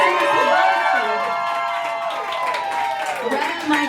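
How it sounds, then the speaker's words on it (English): An audience at a live concert by Liz and the Lovelies at Rockwood Music Hall cheering, whooping and clapping, a loud dense crowd roar with shouts rising over it throughout. "Can you give them a huge round of applause?"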